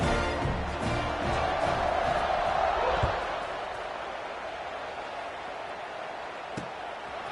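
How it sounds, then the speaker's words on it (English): A college football stadium crowd roars at kickoff, a broad, loud wash of cheering that swells in the first seconds and then settles into a steadier distant murmur with occasional thumps. "this crowd now ready to get behind them."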